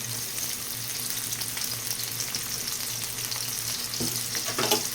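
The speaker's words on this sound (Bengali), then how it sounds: "পেঁয়াজটা আমাকে একটু লাল করে ভাজতে হবে" Chopped onions frying over full heat in a pan, a steady close sizzle that runs throughout with some stirring noise near the end.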